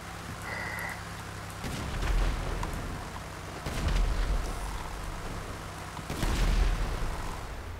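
Cannon blasts in GTA V: three heavy booming bursts, each with a rumbling tail, spaced a couple of seconds apart over a low, steady background hum.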